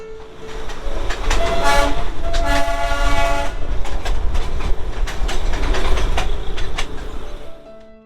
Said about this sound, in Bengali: পনেরো মিনিট বাতাসিয়া লুপে কাটানোর পর আবার চলতে শুরু করলো আমাদের টয় ট্রেন।